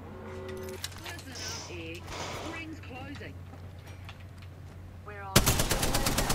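Rapid automatic gunfire in the video game Apex Legends bursts in loud and dense near the end, after a stretch of game voice lines, effects and background sound.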